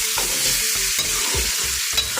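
Chicken pieces frying in hot ghee for a white chicken pulao, a loud, steady sizzle with rhythmic scraping and stirring bumps of a spoon against the pot, no voices.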